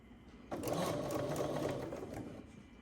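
A sewing machine stitching quilt pieces whirs into a steady, close run of rapid stitching for about two seconds before slowing and stopping, with no talk over it.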